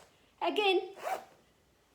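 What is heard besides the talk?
zipper on a vest being zipped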